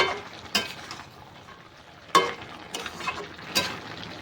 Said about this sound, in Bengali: বড়িটা দিয়ে একটুখানি নেড়ে চেড়ে দেবো